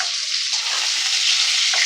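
Pointed gourd pieces fry in oil in a pan, giving a steady, close hiss and crackle with no talk.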